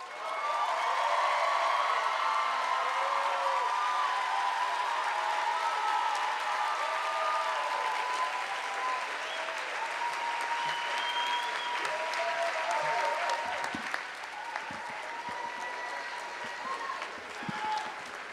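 A commencement audience applauds the bachelor's degree recipients at a 2016 graduation ceremony, with sustained, dense clapping from a large crowd that carries on evenly for many seconds before thinning near the end.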